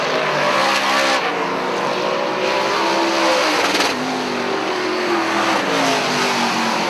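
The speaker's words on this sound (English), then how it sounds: "Nine cars still running out on track." Dirt modified race cars run a Plattsburgh, NY speedway track. Engines roar loud and continuous with rising and falling revs as several cars pass in succession, tires scrubbing on the dirt.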